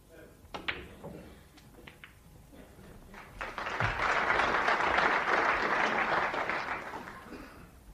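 Applause breaks out from the audience at a 1992 World Snooker second-round match, rising to a steady, fairly loud wash of clapping that lasts several seconds after a few scattered knocks and taps.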